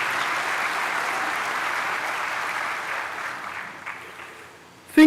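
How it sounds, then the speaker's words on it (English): Graduates and guests clapping at a Mandela University Faculty of Education autumn graduation ceremony on the Gqeberha campus, dense sustained applause that fades gradually toward the end before a sudden loud sound at the close. "Give yourselves a nice round of applause."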